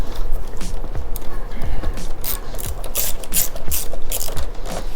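A hand ratchet clicks rapidly in quick bursts as 10 mm bolts are backed out on a Can-Am Ryker three-wheeler, close and crisp with small metallic handling noises between strokes.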